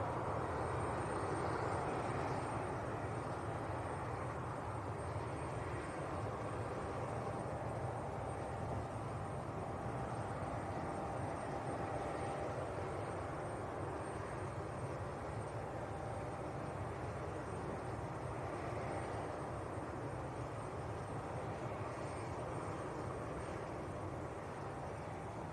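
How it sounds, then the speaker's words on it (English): An Enter Air airliner departs Leeds Bradford Airport for Bristol, giving off a steady, distant jet rumble and hiss that holds even throughout without any break. "Here we go then. Enter air to Bristol."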